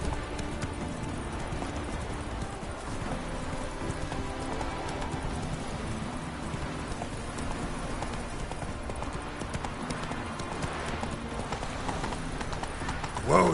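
Hooves clip-clop at a steady, continuous trot as Roach the horse moves through The Witcher 3: Wild Hunt, heard close over a soft background bed, with some speech mixed in.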